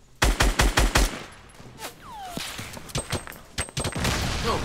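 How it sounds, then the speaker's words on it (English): Rapid bursts of gunfire from the Fortnite video game: a fast string of loud shots up front, then scattered shots and whooshing projectiles with more volleys later, all close and dense. "Dude, we're being shot from all directions."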